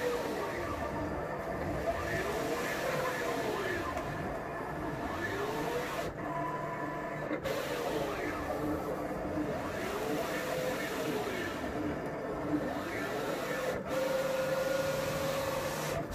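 Roland SP-540i printer-cutter running a print-and-cut job on sticker vinyl, giving a steady mechanical whir with repeating sweeps of the carriage motor, continuous and close throughout.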